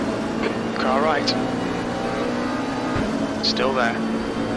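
Engine note of a race car in the RaceRoom racing game rises and falls as it passes alongside, with two separate swells heard over steady road and engine noise.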